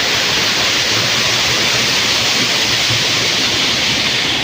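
The Giridibandha waterfall in Keonjhar roars continuously as a loud, dense, close-up hiss of falling water, steady from start to finish with no voices.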